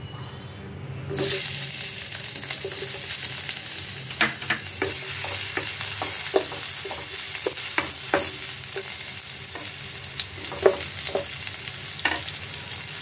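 Chopped onions frying in a hot pan give a constant close sizzle, with regular spoon scrapes and taps as they are stirred, starting after a brief quieter moment.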